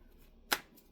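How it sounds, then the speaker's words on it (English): Tarot cards being shuffled, a single quick riffling burst heard close and clear, brief and alone against a quiet room. "How you shuffle is not necessarily important so long as you mix it up and get your energy in there."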